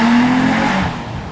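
A Nissan 350Z's VQ35DE 3.5 litre naturally aspirated V6 gives a loud, close engine note with a steady tone that drops and eases off just before halfway, then settles into a lower rumble.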